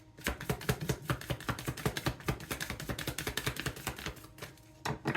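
Rapid papery riffling and tapping of oracle cards being shuffled, a dense run of crisp clicks close up with a brief pause near the end.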